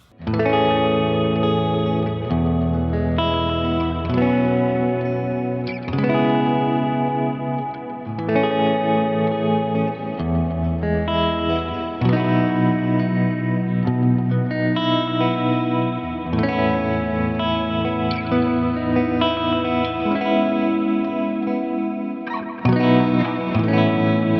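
Electric guitar played through a Line 6 HX Stomp Princeton Reverb amp patch with delay and reverb, sustained chords and notes ringing out with echoing repeats across a long continuous passage, no talking.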